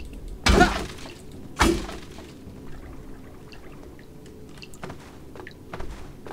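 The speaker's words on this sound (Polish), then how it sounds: "I rozbijamy kolejną ścianę." Stone walls smashed apart in Prince of Persia: The Sands of Time give two sharp, loud crashes with crumbling debris about a second apart, followed by quieter game ambience and small clicks.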